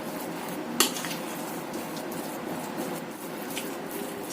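Siomay batter with grated carrot and corn being mixed in a bowl, a soft steady stirring scrape with one sharp clink of utensil against the bowl early on, close and fairly quiet.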